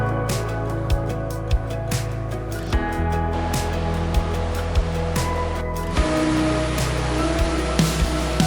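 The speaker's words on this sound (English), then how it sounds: "So there it is, guys, here's the waterfall." A secret waterfall on a mountain top pours in a steady, dense rushing roar that never lets up, with a few soft thumps of handling noise over it and no talking.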